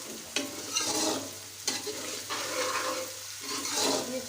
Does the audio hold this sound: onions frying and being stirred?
yes